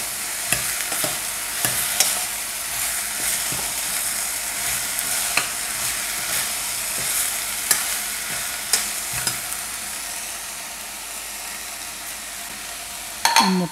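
Mixed vegetables sauté in a hot pan for a chapati curry, a steady sizzle broken by repeated scrapes and clinks of a spoon stirring, close and clear with no talk.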